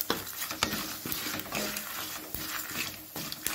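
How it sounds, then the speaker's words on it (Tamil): Spoon scraping through roasted spices and tamarind in a pan while making bitter gourd gravy, with uneven scraping strokes and small metallic knocks in a close, continuous stir. "சேர்த்துட்டு மிக்ஸ் பண்ணிக்கலாங்க"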